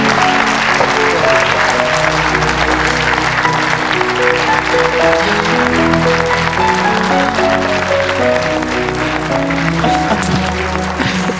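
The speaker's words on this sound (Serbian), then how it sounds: "Molim vas, još jedan aplauz" An audience applauds loudly and continuously throughout, the clapping running under overlapping music and voices at a dense, even level.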